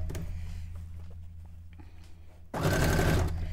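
Domestic sewing machine running a zigzag stitch through fabric for a cone-shaped avant-garde cape, a steady low motor hum that swells abruptly louder partway through and continues, no talking.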